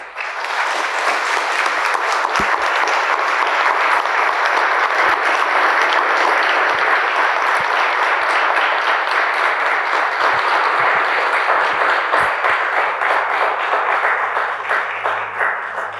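Sustained, dense audience applause fills a book launch event, steady and loud for about sixteen seconds, with sharp individual claps standing out before it thins slightly at the end.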